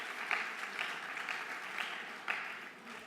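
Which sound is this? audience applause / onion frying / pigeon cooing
audience applause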